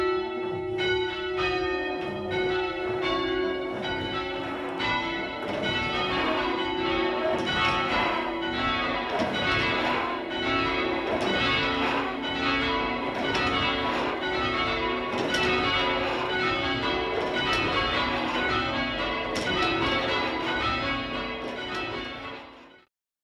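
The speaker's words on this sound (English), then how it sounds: "you can hear the bells are far too close together" Church bells ring continuously in quick succession, struck far too close together, their strikes crowding into a dense, clashing peal with no clear gaps between them.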